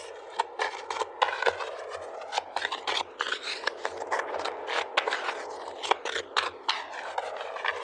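Tarot advice cards are shuffled and pulled close up, making rapid crisp riffling and sliding snaps in uneven bursts, quiet and alone with no talk.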